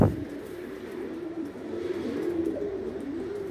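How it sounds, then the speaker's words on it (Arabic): Pigeons cooing steadily in a pigeon loft, a continuous soft murmur of several birds close by with no talking. "فرد الحمام اهو"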